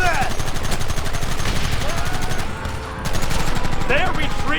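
Rapid gunfire from a Western shootout in Red Dead Redemption crackles almost nonstop, loud and close, with a brief lull near the middle before the shots resume, over a busy battle backdrop with shouting voices.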